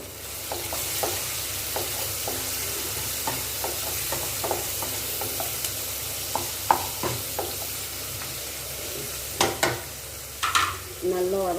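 Onions and a few very small tomatoes fry in oil for salna while a spoon stirs them, a steady sizzle broken by repeated scraping stirs and a few louder clanks near the end.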